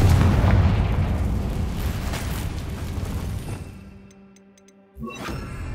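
Confringo blasting spell from Hogwarts Legacy erupts as a loud, broad roaring explosion that rumbles on for several seconds, fades, then bursts again near the end.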